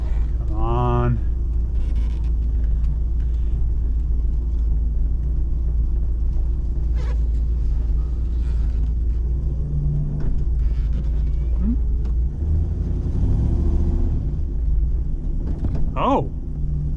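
A Grand Prix car drives with a deep, continuous engine and road rumble as its transmission shifts gears, including a shift out of overdrive. Brief voice-like sounds come near the start and end.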